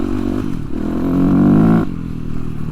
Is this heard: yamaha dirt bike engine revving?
yes